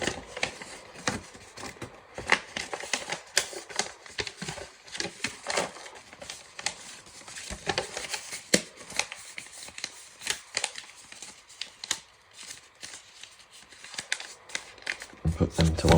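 Paper instruction sheets from a speedometer gauge box are folded back up, giving irregular crinkling rustles and crisp creases that come in quick bursts under someone talking.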